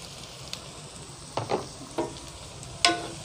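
Green chillies fry with onions in oil for a Jaffna mutton curry, a steady sizzle carrying a few sharp crackles and spoon scrapes spread through the moment, with no talking.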